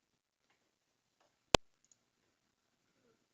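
A single sharp computer mouse click in a quiet room, close and crisp, followed by a much fainter second tick a moment later.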